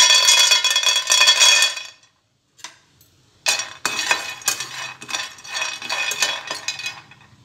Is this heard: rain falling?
no